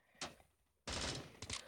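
Bursts of automatic gunfire from the online shooter game Bullet Force: one short sharp volley, a pause, then a longer loud burst followed by two more quick bursts, with no talking over them.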